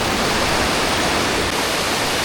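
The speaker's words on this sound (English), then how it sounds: "What a waterfall." A waterfall beside a steelhead fishing spot roars loudly and continuously, a dense, close wash of falling water with no voices over it.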